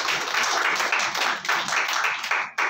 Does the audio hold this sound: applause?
yes